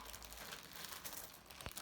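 Plastic bag crinkling and rustling while a squishy keychain toy is unwrapped, close and quiet, with dense continuous crackles and a sharper crunch near the end.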